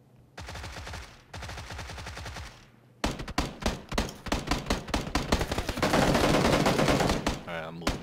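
Rapid automatic gunfire bursts in a first-person shooter battle where grenades are being thrown, loud and close, with sustained dense fire late in the clip and no talk.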